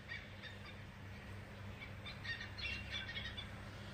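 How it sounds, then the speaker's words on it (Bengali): Birds call faintly outdoors beside a flowing river with forest on the far bank near Phuentsholing, scattered chirps sitting over a steady low rumble of water and wind. "পাখির ডাক শুনতে পাচ্ছ?"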